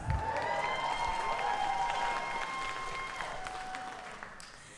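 Dense clapping from a comedy show audience fills the clip, steady and fairly loud before gradually fading out.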